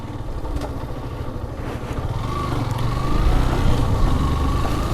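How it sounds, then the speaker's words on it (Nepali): A motorcycle rides a rough mountain road in Mustang, between Lete and Kagbeni, its chain reportedly rattling loosely. The engine drones close and steady, with low rumble that swells slightly louder toward the end and faint clatter mixed in. "बाइक पुरा ख्यार गरिरहेछ चेन नै।"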